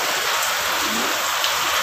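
Heavy rain pours steadily during a storm, a dense, even hiss of drops hitting surfaces close by, constant and loud with no gaps and no voices.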